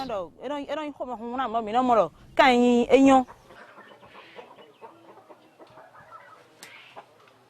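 Improved-breed chickens cluck loudly and close for about three seconds in a burst of harmonic calls, then softer scattered clucks and farmyard noise carry on faintly.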